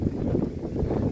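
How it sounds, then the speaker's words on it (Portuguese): Strong wind blowing across an orchard, a steady rumbling gust noise buffeting the microphone throughout, loud and continuous with no voices. "O vento está forte hoje."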